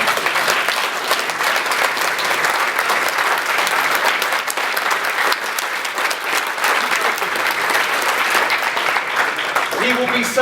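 An audience applauds Sandro Forte at a Polypipe 2019 event, loud, dense and steady for about ten seconds, fading slightly at the end as a voice begins to speak.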